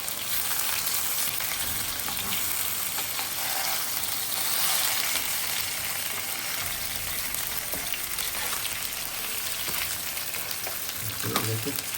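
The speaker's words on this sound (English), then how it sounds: "let it cook on the other side for a minute or so on high flame." Chicken angara kabab fries on a high flame after being flipped, with a loud, dense, continuous sizzle and spatter close up for about twelve seconds and a few faint clinks, with no talking.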